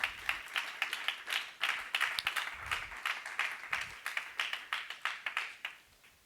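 A church congregation claps along in a steady, brisk rhythm, sharp hand claps repeating close and clear for several seconds with no talking over them.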